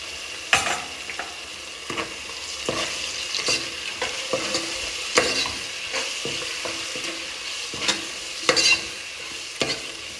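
Ginger, garlic and chili paste fries in hot oil for chicken biryani, a steady close sizzle broken by repeated scraping strokes of a stirring spoon against the pot.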